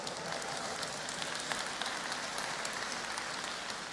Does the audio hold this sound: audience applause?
yes